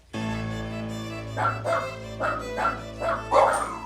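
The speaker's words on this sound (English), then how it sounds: "If he starts lunging and barking, which he will, you tell him stop nice and clearly" Up close, a dog barks and yips in a rapid series of about six sharp barks over a steady mechanical hum.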